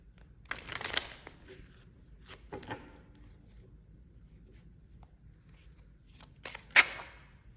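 Tarot cards are shuffled close by in brief soft riffles and scrapes, with quiet gaps between bursts.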